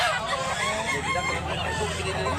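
Roosters sold at a poultry market in Domanjug, Cebu, crow loudly and overlap in a busy yard with a dense murmur of background noise.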